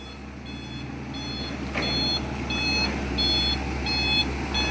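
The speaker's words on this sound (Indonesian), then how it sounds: "ini adalah dump truck kedua di sore ini yang akan melakukan loading ya teman-teman" A dump truck's reversing alarm beeps in a steady repeating pattern during afternoon loading, with the engine rumbling underneath and one brief clunk partway through.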